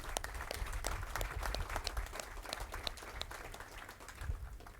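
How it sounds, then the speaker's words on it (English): An audience applauds at a public announcement, with distinct individual claps standing out over a continuous patter of moderate clapping. "Let's give them a big round of applause."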